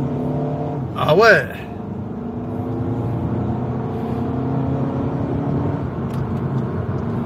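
An Audi A3 saloon S Line with a 2.0 TDI 140 hp diesel engine accelerating hard from around 50 km/h in drive, a steady rising engine drone heard from inside the cabin, with a brief exclamation from a voice early on.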